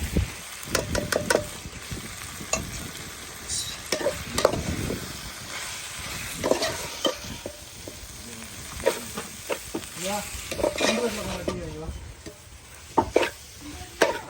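Masala sautéing in oil for a Tamil conch meat curry, a continuous sizzle broken by repeated scraping and stirring strokes of a spoon in the pan, close and fairly loud, with no talk.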